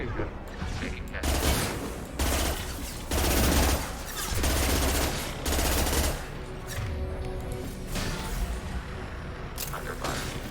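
Bursts of rapid gunfire from a Mass Effect 2 firefight come in repeated loud volleys, separated by short gaps.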